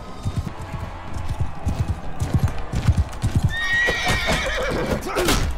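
Hooves clip-clop in an uneven galloping rhythm as a horse runs in the medieval battle game Mount & Blade II: Bannerlord, followed by a loud neigh near the end, with battle noise underneath.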